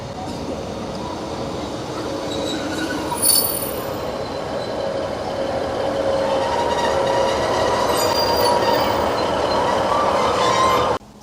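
A late-running train bound for Bishop Auckland pulls into a station on the Stockton & Darlington line, its wheels squealing steadily with high metallic tones over a continuous rolling rumble, loud and sustained throughout.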